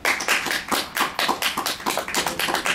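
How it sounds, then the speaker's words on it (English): A crowd at a public utility meeting about an undersea cable breaks into applause, many hands clapping in a fairly even, slightly rhythmic patter for a few seconds without voices. "Okay, if you oppose an undersea cable, please clap now."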